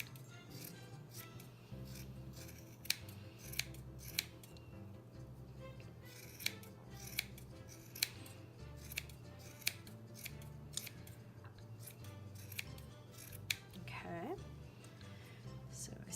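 Sharp scissors trim a round yarn pom pom for pineapple earrings, giving a string of crisp snips at uneven intervals, close and clear over low background hum, with the work turned over partway through.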